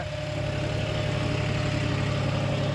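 A John Deere 5045 tractor hauls a five-bottom plough through a field, its diesel engine giving a steady, close, low drone with no voices.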